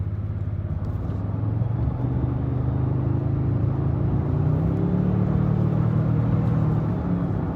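A Toyota luxury SUV with a 10-speed automatic transmission drives and downshifts, heard from the cabin. It gives a steady low engine hum and road rumble for several seconds, with a slow shift in pitch and no voices.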